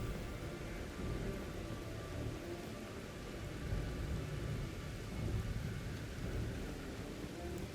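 Storm ambience in the video game Elden Ring Shadow of the Erdtree, a steady wash of rain with low rolling thunder rumbling throughout, fairly loud and continuous with no voices.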